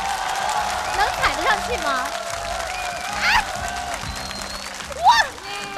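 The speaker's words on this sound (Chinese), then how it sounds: "掌声鼓励。" Crowd applause at a Guinness World Record attempt in China, a steady clapping wash running under close voices and excited exclamations.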